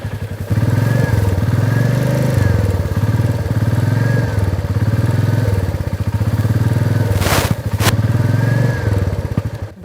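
Royal Enfield Meteor 350 single-cylinder motorcycle engine idling and revving with a close, loud, rhythmic thumping exhaust pulse, rising and falling with the throttle, with a brief sharp noise near the end.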